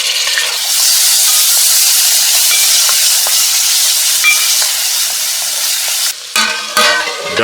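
Tomatoes and spice masala frying in a pan for a mixed dal khichdi, giving a loud, steady sizzle throughout that breaks up briefly near the end as the pan is stirred.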